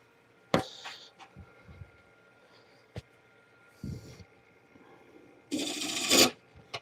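A bowl gouge cuts wood on a lathe in short, scattered scraping bursts, ending in a louder, longer rasping cut near the end, with quiet pauses between.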